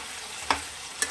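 Potato and pointed gourd pieces fry in a pan for a Bengali malaikari, a soft sizzle under two sharp clicks of a stirring spoon.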